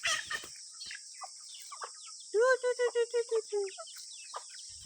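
Village chickens cluck at close range, a quick run of about seven evenly spaced clucks in the middle, with scattered softer chirps and calls around it and a steady high hiss of insects behind.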